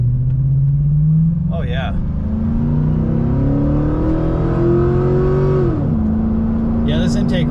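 A car fitted with a cheap Chinese cold air intake accelerates hard, its engine note climbing steadily for several seconds, then dropping at a gear change before pulling again. The sound is close and loud, with brief spoken remarks over it.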